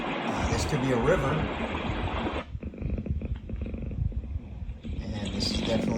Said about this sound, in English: And this is definitely a cat purring.